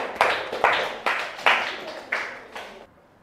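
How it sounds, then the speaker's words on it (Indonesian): Students in a school classroom clap after a group presentation, giving about six distinct, sharp claps at uneven intervals that echo briefly in the room before it falls quiet. "Berikan tepuk tangan."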